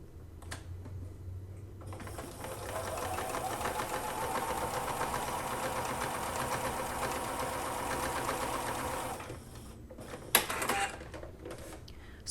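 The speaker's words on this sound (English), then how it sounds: "putting it back through the machine and stitching right down the middle once again" A sewing machine stitches a quilt block straight down the middle in one steady, close run of rapid needle chatter lasting several seconds, followed by a brief clatter and quiet.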